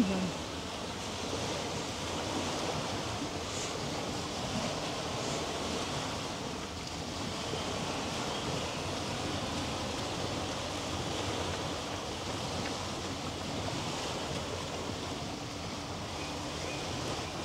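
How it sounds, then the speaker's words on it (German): Harbour water in Hamburg lapping and washing steadily, an even, continuous surf-like hiss mixed with wind noise, no voices, holding at the same level throughout. "die sollen ja auch die Wellen hören"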